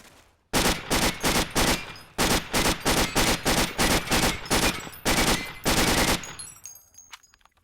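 A gun firing in the FH2 video game, loud rapid automatic bursts of evenly spaced shots, three long strings with brief pauses, close and dominant before a short ringing tail.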